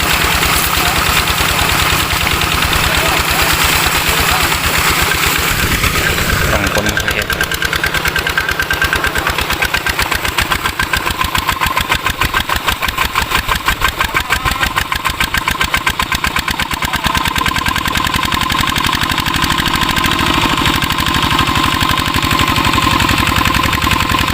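A vehicle engine runs loud and close throughout with a dense, rough rhythmic knock as it is put into reverse gear, a slight shift in tone partway through.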